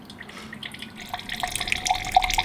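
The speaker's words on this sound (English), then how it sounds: "It fills the big reservoir of water bag here, and that makes its way gravity fed down the pipe." Water from a big reservoir bag runs by gravity down a pipe through a water filter, trickling and dripping steadily and growing louder and busier toward the end, close up with no talking.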